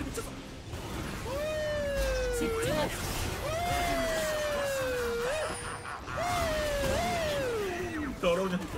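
A police car siren in a video game wails, rising and falling in repeated sweeping cycles, loud and steady, with other game sounds underneath.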